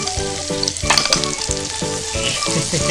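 A Japanese hamburger steak sears in a pan with a steady, crackling sizzle throughout, close and fairly loud, over a repeating musical backing.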